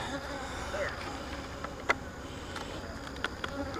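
Honey bees buzzing around an open beehive, a dense continuous hum close by, punctuated by a few sharp clicks and knocks from handling the hive frames.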